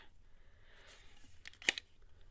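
A corner of a paper envelope is torn off: a quiet, brief papery rip builds to one sharp crisp tear near the end, close by in an otherwise hushed room.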